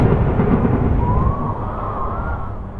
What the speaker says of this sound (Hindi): तभी एक तेज आंधी का बवंडर उठा